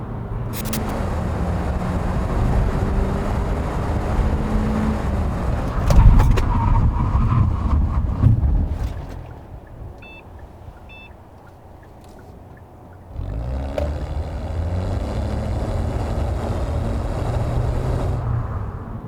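A 2018 Kia All New K3 brakes hard from 100 km/h: steady road and engine noise fades into a near-silent pause, then driving noise resumes loudly, with no voices.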